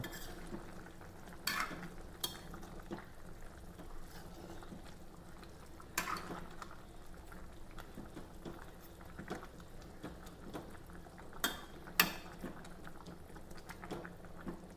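Chicken cooks in its own released juices in a pan with a soft, quiet bubbling simmer, and a handful of scattered spoon-scraping stirs rise above it now and then.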